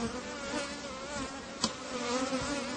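Honeybees buzz around an open beehive during frame work, a dense steady drone of many insects close by with one brief knock midway and no voices.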